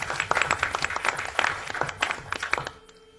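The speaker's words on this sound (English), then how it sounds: "give them a round of applause" Attendees at a pension board of administration meeting give a round of applause, with crisp overlapping claps from a modest group at close range that fade out abruptly near the end.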